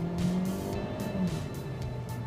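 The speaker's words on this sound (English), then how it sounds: "the 6-speed automatic transmission is smooth shifting, but it does take a split second to downshift when you floor the gas pedal" Volkswagen Santana with a six-speed automatic transmission under hard acceleration, a steady engine drone with rising tones and brief whooshing bursts, close and moderately loud.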